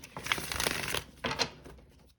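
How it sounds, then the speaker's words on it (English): A tarot deck is shuffled once more in a quiet room. Two soft bursts of cards rustling and riffling are separated by a brief gap, then the sound fades out. "do one last shuffle"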